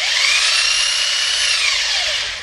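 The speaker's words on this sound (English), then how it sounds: "It's a belt sander. And I use a coarse grit sandpaper." A belt sander with coarse-grit paper grinds steadily across a wooden board, a loud, close, high-pitched whine that holds evenly before tapering at the end.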